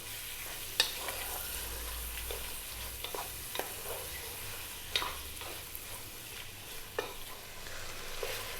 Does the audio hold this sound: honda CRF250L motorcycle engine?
no